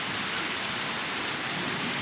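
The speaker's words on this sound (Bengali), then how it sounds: "বৃষ্টি রয়েছে, তার সাথে মোটামুটি বেশ বাতাস আছে" Steady rain falling with wind, a dense continuous hiss at moderate level with no other sounds over it.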